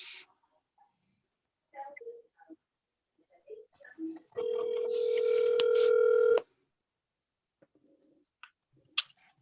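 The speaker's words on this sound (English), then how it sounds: "let me try and call you from my cell phone instead of answering from my computer" A steady telephone tone sounds over a cell phone call for about two seconds, loud and unbroken, between stretches of near-quiet with scattered faint clicks and murmurs.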